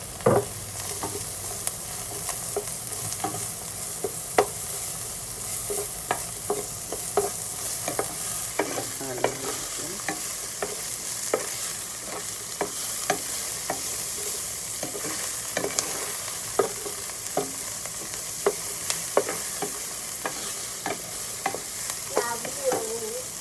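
Chop suey vegetables with garlic stir-fry in a pan, giving a steady sizzle with frequent sharp clacks and scrapes of a spatula against the metal throughout.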